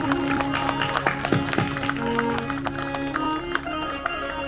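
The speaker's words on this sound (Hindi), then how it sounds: "थोड़ी सी ताली अपने लिए बजाओ भाई" A crowd at a Bhagavat katha religious gathering claps together, a steady patter of many hands that stays loud and dense throughout, with a voice carrying over it.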